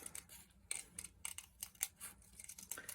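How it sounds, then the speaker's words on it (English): Scissors cutting around the petal of a printed paper flower, a quick series of crisp, close snips spaced irregularly, each a short sharp click with quiet gaps between. "all you've got to do is snip on the inside of the petal and then just follow the shape round"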